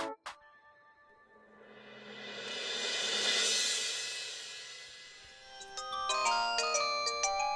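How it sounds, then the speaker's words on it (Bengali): A mobile phone rings with an incoming call: a bright, melodic ringtone swells in volume, then breaks into a run of distinct chiming notes, heard alone with no talking. "নাট ফোন করছে, ওদের তো এখন ফোন করার কথা ছিল"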